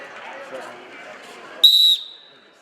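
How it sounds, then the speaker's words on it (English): A sharp, shrill whistle blast starting a musical chairs game cuts in briefly after soft background chatter, then rings off into quiet. "You will hear the whistle."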